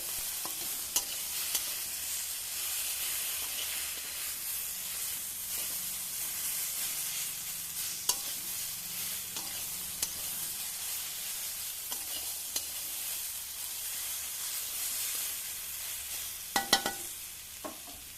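Spiced masala frying with radish, brinjal, taro and potato in a kadai: a steady, close sizzle with soft stirring scrapes and occasional sharper clinks of the spoon against the pan, no voices.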